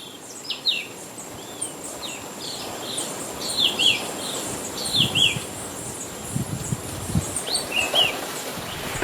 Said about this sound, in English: The Queen Elizabeth Botanic Park here is brimming with birds. You can hear all around with their stuff calling.